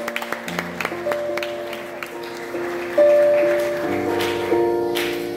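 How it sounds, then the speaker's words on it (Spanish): A church congregation claps for the Lord with scattered, building hand claps under sustained organ or keyboard chords, growing fuller partway through. "Dele palmas al Señor."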